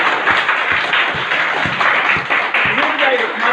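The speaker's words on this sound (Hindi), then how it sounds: "एक बार आप लोग अपने लिए ताली बजाइए" A crowd at a Holi celebration gathering in Chatra claps together, a dense roll of hands with a few rhythmic thumps underneath and a voice talking over it.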